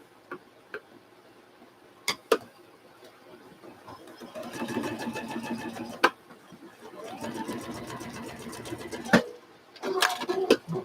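A sewing machine runs in short rhythmic bursts, joining two quilt pieces into a four-piece row for a mystery quilt. The stitching is close and clear, with pauses between runs and a person talking at intervals.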